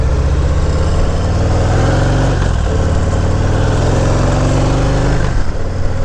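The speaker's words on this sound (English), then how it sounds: "That rattle is gonna be a heat shield." A Harley-Davidson motorcycle idles loudly and steadily up close, a dense throbbing engine drone with a loose heat shield adding a metallic rattle and a couple of brief throttle blips.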